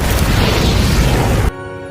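A missile blast from the film Jumanji: The Next Level rips out as a loud, dense explosive roar filling the first second and a half, then cuts off abruptly into a quieter low rumble.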